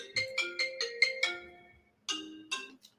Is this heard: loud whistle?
no